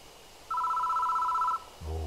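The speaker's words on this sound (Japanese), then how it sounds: "電話のベルが呼んでいた。" In the PS4 horror game Shiin (Death Mark), an old telephone bell rings in a single sustained electronic trill, clear and fairly loud, followed by a short low tone at the end.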